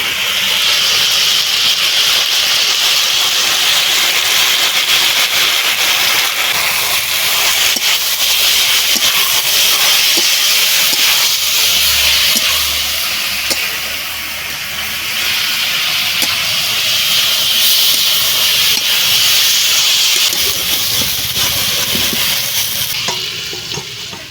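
Chopped tomatoes hitting hot oil in a pan with dried fish, a loud steady sizzle and hiss of steam that holds throughout, close up, with faint stirring underneath and no talking.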